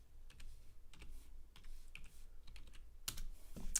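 Close keystrokes clatter on a computer keyboard in quick, uneven bursts, with short pauses between runs of taps and a louder flurry near the end.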